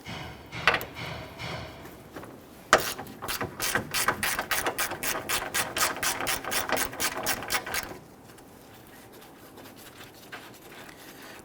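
A ratchet loosens a 13mm radiator bracket bolt on a 2006-2010 Hummer H3, giving a rapid, even run of close clicks for several seconds before it stops.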